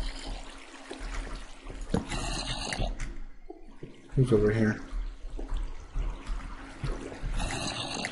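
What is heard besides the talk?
flowing water placed from a water source, Minecraft video game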